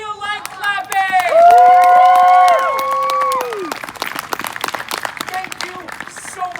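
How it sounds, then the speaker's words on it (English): A Renaissance festival crowd claps and cheers after the Harmless Danger Juggling Show, loud shouts and whoops over dense nearby clapping, which continues as scattered claps and chatter. "Now clap as loud as you feel like clapping!"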